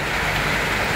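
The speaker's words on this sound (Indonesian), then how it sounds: "Seperti sekarang saat hujan, itu saya menampung air hujan." Steady rain falls outside, a dense, even hiss that stays constant and fairly loud through the whole second with no voices.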